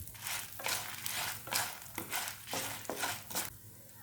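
Dried red chillies fry in a pan with a soft crackling sizzle, broken by a few rhythmic scrapes of stirring, fairly quiet and close with no talk.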